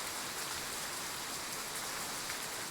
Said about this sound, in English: I was going to get wet in the rain, but I didn't mind.